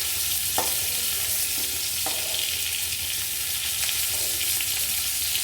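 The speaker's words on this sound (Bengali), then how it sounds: "আস্তে আস্তে উল্টে পাল্টে পুরো উচ্ছেটা ভেজে নেব।" A whole stuffed bitter gourd fries in a pan with a loud, continuous sizzle and hiss, broken by a few short knocks as it is turned.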